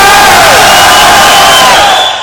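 A dense Belgian crowd at a motorcyclists' federation demonstration roars and cheers loudly and continuously, with shouts and whoops blended into a constant wall of noise that eases slightly at the end.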